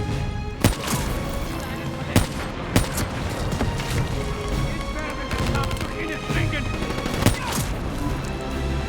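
Sniper and other gunfire in Call of Duty Black Ops 3, with several sharp cracks standing out over a dense, continuous battle din of shots and explosions, while soldiers shout in the mix.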